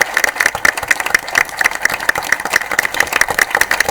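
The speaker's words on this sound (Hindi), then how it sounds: "जोरदार तालियां आपकी।" An audience claps to welcome the chief minister onto the stage at the final round of a televised current-affairs quiz competition, with brisk, continuous applause of many hands and a faint steady tone beneath.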